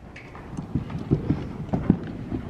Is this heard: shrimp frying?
no